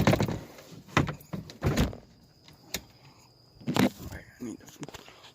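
A door is handled at close range with clunks, latch clicks and a rolling slide, broken into several sharp bursts while a person talks in between.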